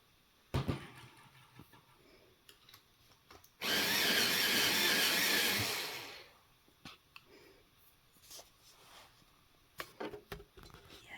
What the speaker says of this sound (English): I'm just sharpening all of them